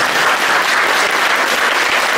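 Steady, dense applause from an audience at a talk in Sobótka, Poland: many hands clapping at once in an even, continuous wash, close and loud, with no speech over it.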